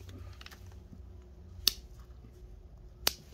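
Pruning shears cut back the branches of a young shohin olive bonsai: two crisp, close snips about a second and a half apart over a low steady background hum, with no talking.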